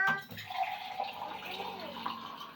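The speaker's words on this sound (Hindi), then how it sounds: "अब पानी थोड़ा सा आरो से लिए" Water pours from an RO purifier tap into a vessel in a home kitchen, a close, steady splashing stream running throughout with no talk.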